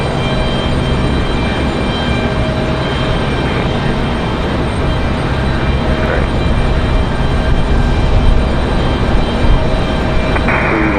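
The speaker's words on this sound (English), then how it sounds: "this one touching down and almost stopping already" An airliner touches down on the runway at Raleigh-Durham airport, a steady, loud broadband roar of engines and rolling wheels that swells slightly toward the end, heard from a distance without speech.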